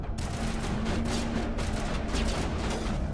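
Rapid gunfire from a Mass Effect battle against husks, with a sniper rifle in use and squadmate Garrus shooting nearby, sustained and dense throughout without pauses, loud and continuous with layered bursts.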